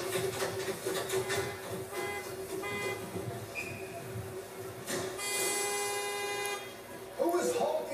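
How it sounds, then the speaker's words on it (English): A car horn honks at a WWE Friday Night SmackDown wrestling show, sounding a few moderately loud tones over steady arena crowd noise while people talk throughout. "Who is honking the horn?"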